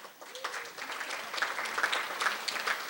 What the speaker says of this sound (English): can we just do a really loud clap for Julie?